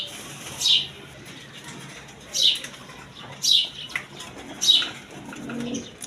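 Large female Gopalganj pigeons in a market setting make four short, separate bursts of sound, spaced a second or two apart over a quiet background.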